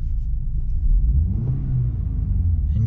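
A 2018 BMW 320i xDrive sedan revs in sport mode with a low, close engine rumble that rises in pitch around the middle and holds steady, with no one speaking.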